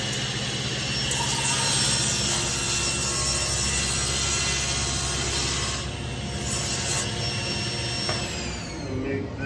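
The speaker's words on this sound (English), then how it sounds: "I've got a piece of 1/2-inch plywood that I'm just going to true up and then cut to" Half-inch plywood being trued up on a crosscut sled at a bandsaw, a steady loud machine drone with continuous cutting noise throughout, tailing off near the end.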